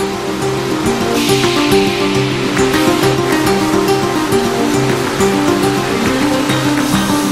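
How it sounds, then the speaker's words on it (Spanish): A water shower rinses the coating of salt off cured Iberian hams at a Pedroches ham plant, a loud continuous spraying hiss over a steady low mechanical hum, with no voices. "se somete a una ducha de agua para eliminar la sal de recubrimiento"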